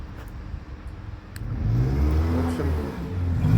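A Nissan X-Trail T30 after an automatic transmission repair, its engine rising from idle into a steady revving hum as the car pulls away, close and fairly loud, with a faint voice early on.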